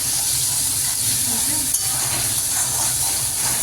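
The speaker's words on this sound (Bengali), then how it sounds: "এখন কষাচ্ছি।" Bengali fish curry, a tangra fish chorchori without aubergine, sautés in a pan with a loud, continuous sizzling hiss that stays even throughout, with soft stirring clinks and a faint rumble underneath.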